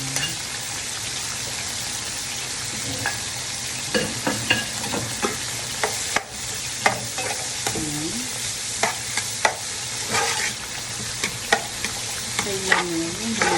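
Four onions sizzle and fry in a pan while a utensil stirs them, scraping in irregular strokes over a steady hiss, close and moderately loud with no talk.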